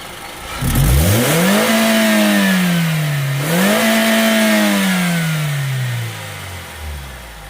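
A used Hyundai Grand i10 or Maruti Suzuki SX4 car engine revs up twice from idle, rising and falling in pitch, loud and close with no talking.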